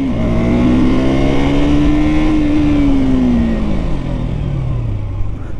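A KTM RC 200 BS6 motorcycle rides at speed and then brakes, its close, loud engine note climbing and holding before dropping away as the bike slows.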